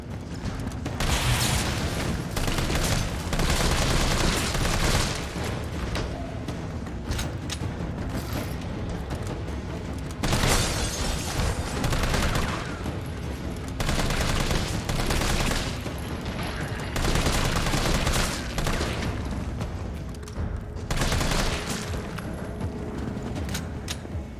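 Dense, continuous gunfire in the video game Resident Evil 3 Remake, sustained bursts and rapid volleys that barely let up, loud and close throughout, with occasional heavier booms mixed in.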